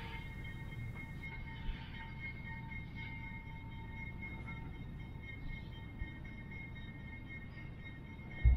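A Brightline passenger train rolls slowly over rails into its Orlando maintenance facility with a steady low rumble, occasional faint clanks as the wheels cross a turnout, and no voices.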